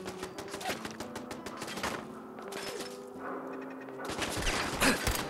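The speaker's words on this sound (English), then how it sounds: "We're under fire. Heavy fire." Heavy gunfire in the Fallout video game during an assault on the Corvega Assembly Plant: dense, overlapping bursts of shots and rapid automatic fire, loud and continuous, with a sharper cluster of blasts near the end.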